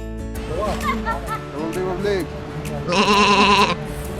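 Goats bleating near rivers at the entrance to Betaab Valley, Kashmir; several short wavering bleats come close together, followed by a louder, longer cry, with a steady water rush underneath.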